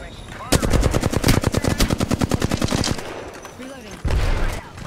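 A long rapid burst of automatic gunfire rattles loudly in a shooter video game during a tournament match, then stops briefly before a second short burst follows.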